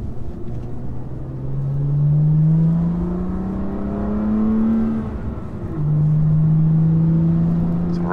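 A BMW M2 CS with exhaust valves open drones loudly while driving at speed, a steady low engine hum that rises in pitch, drops, then climbs again around 3,000 RPM, heard from inside the car with no talk.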